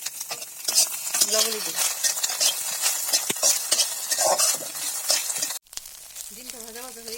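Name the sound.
egg frying and sizzling in a pan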